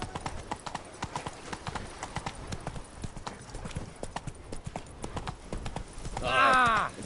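Horse hooves in The Witcher 3: Blood and Wine on PS4 Pro beat a steady, rhythmic clip-clop of a galloping mount throughout, ending in a short whinny.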